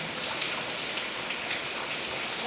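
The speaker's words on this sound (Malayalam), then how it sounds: "ഭയങ്കര മഴയാണ് കൂട്ടുകാരെ" Heavy, unbroken rain falls steadily and loudly through the whole stretch, a dense hiss with no voices, during a persistent downpour at a home in Kerala.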